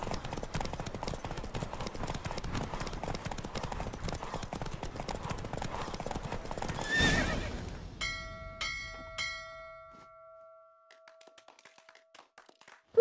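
Rapid hoofbeats of a galloping horse in The Witcher 3: Wild Hunt pound steadily during a race, then slow and stop, followed by a few bright chiming tones.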